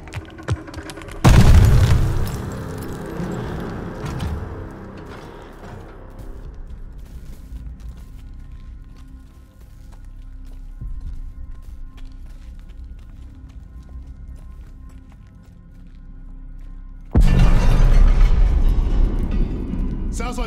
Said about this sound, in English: Grenade! Get down!